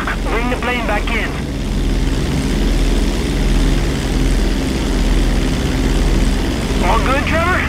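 A propeller plane engine drones steadily and loudly throughout in GTA 5, with brief bursts of speech-like chatter near the start and the end over the constant roar.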